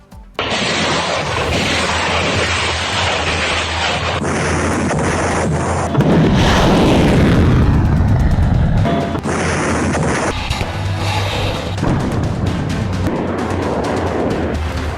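Artillery strikes during a war, with heavy booming blasts and rolling rumble running continuously and loudly, several sharp impacts standing out through a dense, layered barrage.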